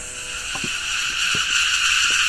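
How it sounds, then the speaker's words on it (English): A cicada chorus on the Velliangiri hills, a steady high shrill buzz that swells slightly, with faint low knocks or footsteps beneath and no talking. "enjoying the orchestra of the cicadas"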